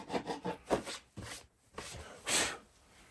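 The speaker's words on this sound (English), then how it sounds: "It's a piece of plywood, but I mean, it's scraping up the plywood." A sharp scraper tool from a scraper and removal set is dragged across plywood in rough rasping strokes, several quick passes then a pause and one longer scrape, close and fairly loud.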